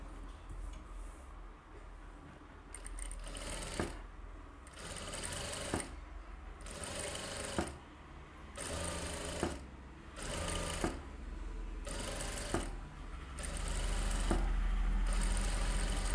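Sewing machine stitching around a stylish blouse back neck, running in short repeated bursts with brief stops between them, each stop marked by a sharp click, steady and close.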